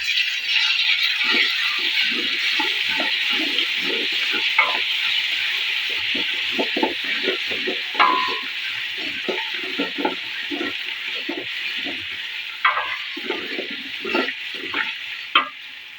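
Ginger and garlic paste frying in a pan: a steady bright sizzle with repeated rattling and scraping of a spatula stirring against the pan, close and unbroken throughout.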